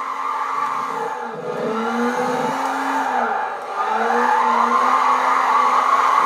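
Tires squeal steadily on a no-turbo 240SX drifting in the racing game Gran Turismo 5, a sustained wavering screech over the engine drone, dipping briefly mid-slide and then swelling louder toward the end.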